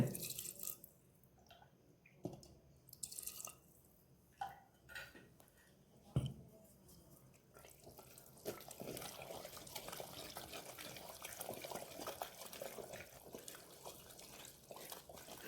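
Water ladled in two scoops into wild greens being mashed, with scattered clinks and drips at first, then a steady, close splashing and churning wash through the second half. No one talks.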